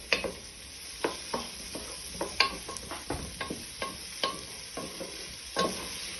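Chopped tomatoes, stock, seasoning and rice go into a jambalaya pan, bringing soft sizzling under a string of irregular scraping stirs and clinks, fairly quiet and close, with no voices.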